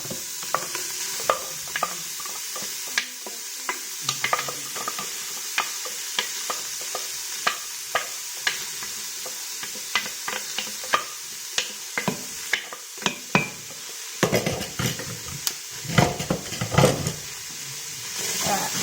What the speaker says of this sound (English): I'm adding in my aromatics, so I'm adding the celery and the carrot, the onion and the garlic.